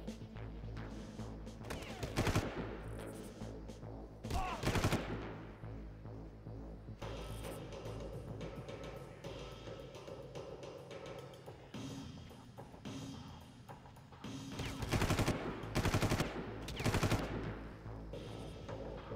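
Automatic weapon fire in the video game Far Cry 1, rapid bursts of shots that come and go over a steady droning game background, with two loud clusters near the start and another toward the end.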